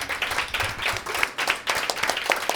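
A small crowd claps steadily for a speaker at a talk on menopause, the applause continuous and fairly close, without any voices.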